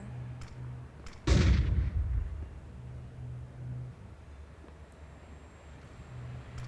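A grenade blast in Counter-Strike 2 on the Nuke map: one loud, close explosion with a heavy low boom that decays into a rumbling tail over a quiet, steady background hum.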